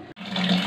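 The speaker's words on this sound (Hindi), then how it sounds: "अभी पानी आ रहा है" Water rushing from a tap through an electric instant water geyser, a steady close hiss of flowing water after a brief dropout.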